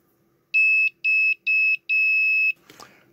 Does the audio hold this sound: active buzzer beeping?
yes